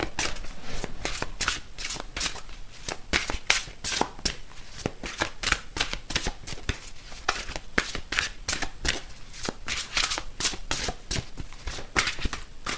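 Tarot cards shuffled by hand, a steady run of crisp riffling bursts repeating close up with only faint background.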